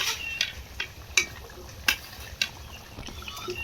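Fried fish is stirred into a simmering pan: a spatula clacks and scrapes against the metal in irregular strikes over a faint, quiet bubbling sizzle, close and without voices.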